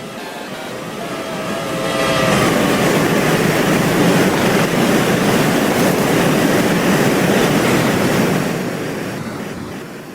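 A video game Amtrak Talgo Cascade train rushes past at speed, a broad roaring rumble swelling quickly, holding loud for several seconds, then fading slightly.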